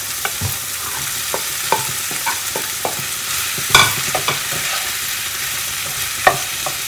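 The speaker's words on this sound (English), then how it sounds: "Now that we have fried the tomatoes a little lightly, we can add in our okra." Okra and tomatoes frying together in a pan for an Anglo-Indian lady finger dish, with a steady sizzle broken by scattered scraping clicks of a spoon stirring, close and alone without talk.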